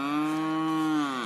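A single cow in a grassy field lets out a long, steady, close moo that holds its pitch before trailing off, clear and alone.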